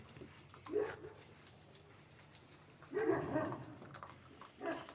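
Central Asian Shepherd puppies in Michigan give three short, separate bursts of whimpering and yelping with quiet gaps between them.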